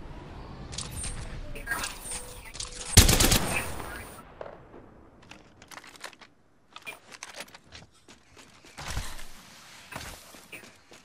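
Bursts of automatic gunfire crackle through an Apex Legends match, with one loud close volley followed by scattered, more distant shots and footsteps; a voice can be heard at times.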